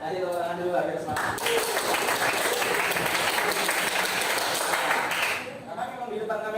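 A classroom full of students applauds in a sustained, dense burst of clapping that fades near the end, with voices heard around it.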